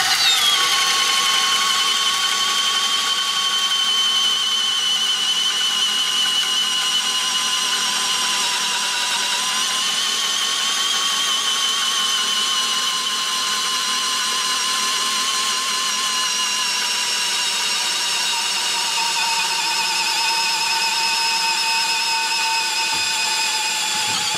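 A high-pitched Milwaukee Fuel cordless drill whines continuously boring through a big piece of pine, its tone dipping slightly as it bites under load, steady and close for the whole stretch.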